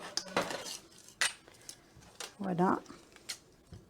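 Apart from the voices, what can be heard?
scissors cutting fabric for a cushion cover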